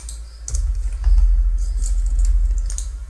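Keyboard shortcuts such as Ctrl-T and Ctrl-V are pressed on a computer keyboard, heard as a few close, crisp key clicks over a steady low hum with no talk.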